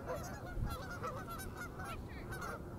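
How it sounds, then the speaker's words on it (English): Ducks honking outdoors, a steady run of repeated nasal calls from several birds layered over each other, fairly close, with constant low background rumble and no talking. "these ducks, bro."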